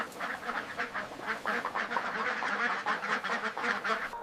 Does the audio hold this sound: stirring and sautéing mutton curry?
no